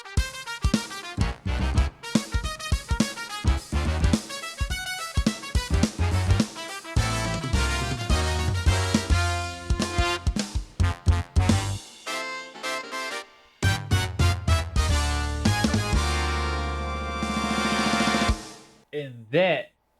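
A big band plays an intro arrangement: punchy brass chords stab and hold over bass and drums, with sharp stops and swells and a sustained ending chord.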